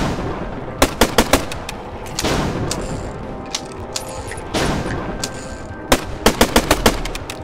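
Rapid bursts of loud gunfire in a boss fight in the game Falsepine, sharp shots in quick clusters separated by heavier booming blasts and rumbling game sound.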